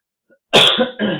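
Two sharp coughs in quick succession, close and loud, after a brief silence.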